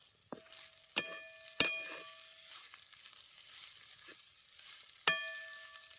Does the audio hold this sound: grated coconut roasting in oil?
yes